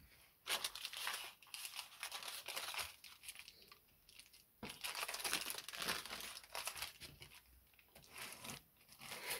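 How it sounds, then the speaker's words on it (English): Damp paper towel dabbed and rubbed over excess glue on a paper art journal page, giving close, repeated crinkling and scrunching rustles in uneven bursts with brief pauses, alone without talk. "So I'm going to take a damp paper towel and go around and pick that up."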